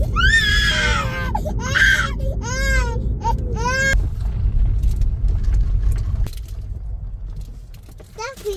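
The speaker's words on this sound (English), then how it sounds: "we've had screaming for 20 minutes, which is unlike them" Two young children, a toddler and a baby, scream and wail inside a moving car, with repeated high rising cries over a steady low road rumble. The cries fade out and road noise carries on alone.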